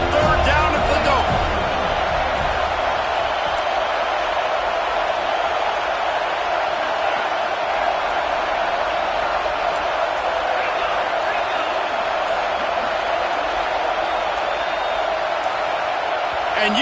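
Stadium crowd at the Dome roaring loudly on third down during an NCAA football game against Florida State, a dense, sustained wall of noise that stays steady from start to end with no pauses.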